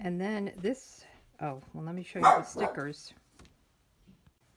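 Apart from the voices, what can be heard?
dog barking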